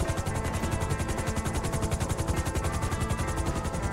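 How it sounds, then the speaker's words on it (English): A police helicopter in GTA 5 drones with steady rapid rotor chopping, a loud continuous pulsing whir with no voices. "very nice helicopter"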